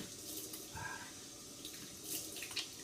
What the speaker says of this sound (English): So, rinse off with cold water.